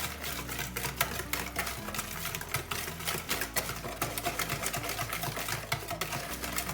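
Orange cake batter with vanilla essence being mixed in a bowl, a busy run of rapid clicking, tapping strokes that continue steadily and close, with no voices.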